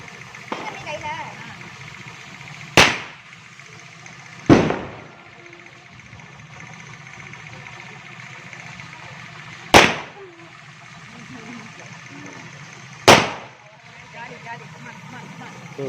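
Sivakasi Diwali firecrackers set off by kids burst in four sharp, loud bangs spaced several seconds apart, each with a short decaying tail, over outdoor background noise and occasional voices.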